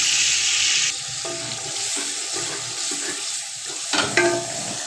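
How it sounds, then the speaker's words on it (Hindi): Spiced masala with green peas, chilli and turmeric is stir-fried for matar pulao: a loud sizzle that eases after a second, with scraping spoon strokes and a few sharp clatters near the end. "इसका मसाला भून लेंगे"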